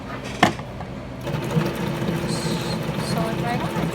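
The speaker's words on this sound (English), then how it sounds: "sew it right on." A sewing machine stitches a washi tag in a steady, fast mechanical whir with rhythmic needle clatter, moderately close, after a short sharp knock at the start.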